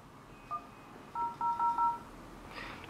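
Keypad dialing tones from the loudspeaker of a Cubot P6 phone: a single short beep followed by a quick run of four tones, clear and close, with no voices.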